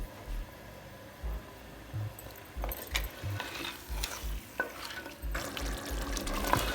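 Desi chicken sizzles in nihari spices in a pan, a steady close frying hiss with stirring scrapes and clinks, and soft low thumps under it.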